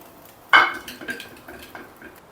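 Cooked dal for a sorrel leaves dal goes into a pan with one loud metallic clank of a ladle against the pan. Softer clinks and scrapes follow close by, with no speech.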